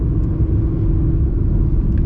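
Audi R8 with a V10 engine heard from inside the cabin as a steady, loud low rumble while driving, continuous and without talk.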